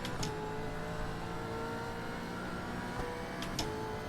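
Race car engine in a sim racing game on a lap of Navarro, a steady droning engine note holding throughout with a couple of brief sharp bursts near the start and end, no talk.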